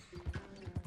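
Horse hooves in the video game Red Dead Redemption 2 clip-clop in a quick uneven rhythm, several soft close thuds over a faint mechanical hum, fairly quiet and without talk.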